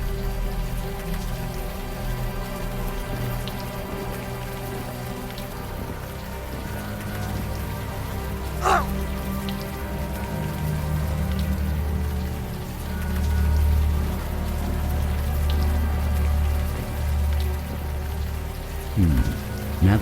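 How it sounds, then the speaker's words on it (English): Warm rain falling in the open air in the point-and-click adventure game Unavowed, a steady close patter of drops over a low hum, with a few sharper splashes and no voices. "Now that it's out in the open air, the warm rain is coming down."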